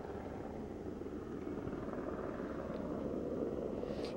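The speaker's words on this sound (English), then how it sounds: "You see that helicopter is just flying back and forth across Highway 80." A helicopter hovers and passes back and forth over a flooded Highway 80 during a water rescue, a steady distant rotor drone running without pause and holding an even, moderate level throughout.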